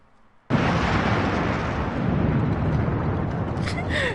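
A sudden, loud, sustained blast and rumble in the video game AI: The Somnium Files erupts after near silence and keeps roaring for several seconds.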